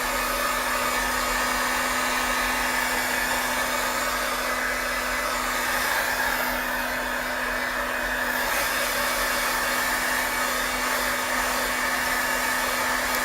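A hair dryer blows steadily and loudly for the whole stretch, an unbroken airy whoosh over a constant motor hum, with no voices.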